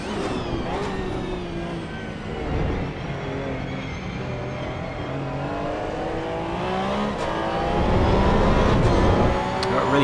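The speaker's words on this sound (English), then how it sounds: "You could hear how laboured I was on the throttle." Porsche 992 GT3 in a racing video game at Spa, run without ABS or traction control, its engine droning steadily on throttle with a layered, close-up roar that swells louder toward the end.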